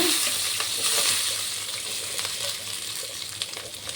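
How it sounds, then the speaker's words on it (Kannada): Onions, green chillies and tomato fry in hot oil in a steel pan, giving a steady, close broadband sizzle with light stirring scrapes throughout and no talking. "ಎಣ್ಣೆ ಬಿಸಿಯಾದ ನಂತರ ಈರುಳ್ಳಿ ಹಸಿಮೆಣಸಿನಕಾಯಿ ಟೊಮೆಟೊ ಹಾಕಿ ಚೆನ್ನಾಗಿ ಬಾಡಿಸಬೇಕು"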